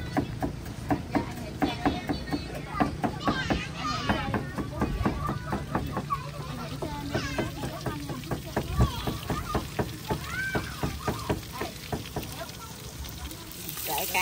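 Sea perch and snakehead fish, skinned, frying crisp in a pan, with a steady crackling sizzle and scattered pops running throughout, close by, while a person talks over it.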